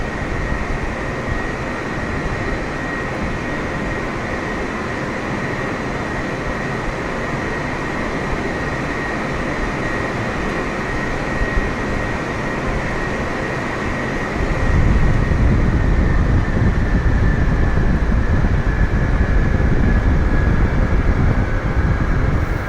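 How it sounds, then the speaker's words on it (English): An Alitalia Boeing 747 taxies to runway 25 in Rome, heard as a steady engine roar with a high whine that grows heavier and louder midway, continuous throughout. "on a taxi to runway 25 for takeoff for flight Rome to Singapore"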